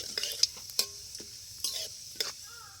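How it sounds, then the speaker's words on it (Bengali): Nigella seeds and dried red chillies temper in hot oil as a spatula stirs them, giving a soft sizzle broken by several quick scraping strokes against the pan. The sound is close and fairly quiet, with no talking. "ফোড়নটা একটু ভালো করে নেড়ে ভেজে নেবো"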